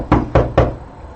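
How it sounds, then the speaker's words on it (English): Three firm, evenly spaced knocks on a home's door, close and loud, each with a short hollow ring, followed by quiet. "I heard a knock at the door"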